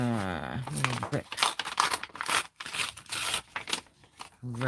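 Coffee-dyed paper torn by hand into strips, producing close crackly ripping and crinkling bursts, with a voice briefly talking at the start and end.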